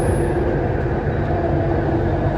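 Continuous low rumble and rhythmic clatter of a moving train in Malaysia, steady and fairly loud from inside the carriage, in the early morning.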